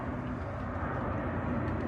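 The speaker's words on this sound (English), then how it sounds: "Oh, this is our airplane." An airplane passes overhead above a garden as a steady, fairly faint broadband roar that holds level and unbroken throughout, with no voices.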